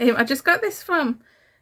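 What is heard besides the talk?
No distinct noise like a dog, phone or traffic.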